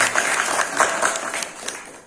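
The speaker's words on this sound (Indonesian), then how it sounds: "Tepuk tangan untuk seluruh Bandung." A short burst of applause from a crowd gathered at a commemorative event, made up of dense, close clapping that fades slightly toward the end.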